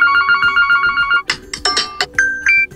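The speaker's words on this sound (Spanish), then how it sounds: "Pues entramos en tono de llamada." Ringtone on a Huawei Nova 10 phone, loud and close: a quick repeating electronic melody pattern followed by brighter chime-like notes, no one speaking.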